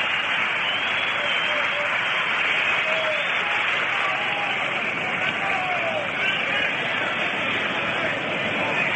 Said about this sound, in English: Here comes Early Wynn, having a nice round of applause